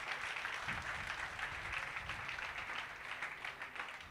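A church congregation at a Sunday worship service claps hands together, a dense continuous patter of many hands at moderate distance with no speech over it.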